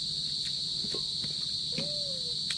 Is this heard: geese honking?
no